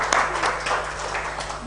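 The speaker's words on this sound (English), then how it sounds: "Can we have a louder round of applause for Natalie for keeping her nerve during the technical" Audience applause at a women's startup pitch competition final in the UAE, steady dense clapping from a crowd filling the whole short stretch at a moderate level.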